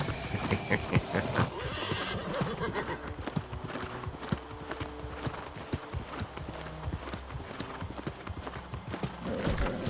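Rapid hoofbeats of a galloping horse with occasional whinnies in the video game New World: Aeternum, continuous and close over a busy background.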